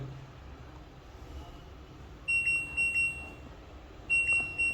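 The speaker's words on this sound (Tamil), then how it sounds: "இன்னும் ஒரு பஸர் சவுண்ட் வருது" Two bursts of sharp electronic beeping from the control panel buzzer of an LG inverter front-load washing machine, each a quick cluster of high tones, over a quiet background hum.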